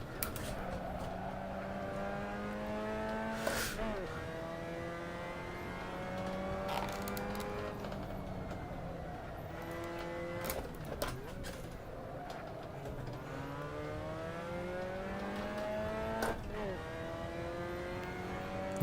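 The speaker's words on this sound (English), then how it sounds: "I mean, I'm overdriving the engine as well" A Mazda MX5 Cup car in Assetto Corsa racing at Alastaro, its engine revving hard through repeated rising and falling sweeps with sharp shift breaks, loud and continuous as a driver talks intermittently over it.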